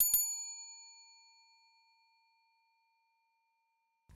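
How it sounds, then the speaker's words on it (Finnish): A single bright bell ding rings out at the start of a football quiz round and slowly decays into silence, ringing cleanly with no other sound around it. "Soittaa kello."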